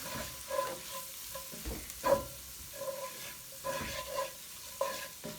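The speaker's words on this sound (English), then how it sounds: "Now I'm going to sprinkle in 1/4 cup of flour." In a skillet, flour is sprinkled over softened vegetables and stirred in, producing a faint, low sizzle with intermittent soft scraping strokes at an uneven rhythm, close and quiet.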